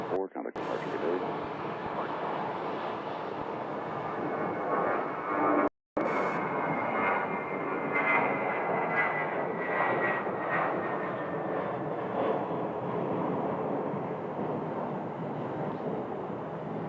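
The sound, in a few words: American Airlines Boeing 737 jet taxiing at Sky Harbor airport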